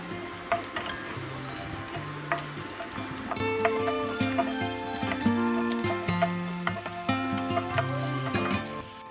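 Sliced onions sauté in a pan for an egg chilli pepper dish, giving a steady close sizzle and fry with stirring scrapes that grow busier partway through, heard alone without talk.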